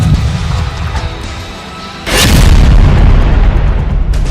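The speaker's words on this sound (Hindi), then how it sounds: "इन्हें तोड़ने के लिए इजरायली इंजीनियर्स विस्फोटक और रोबोट्स का इस्तेमाल कर रहे हैं।" Explosives demolish tunnels in Gaza: after a low rumbling bed, a sudden loud deep boom hits and rolls on as a heavy sustained roar for a couple of seconds.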